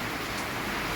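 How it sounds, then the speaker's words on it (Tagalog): Heavy rain falling outdoors during a motorcycle trip, a dense, steady, loud hiss of broadband noise with no voices. "lumakas ang ulan"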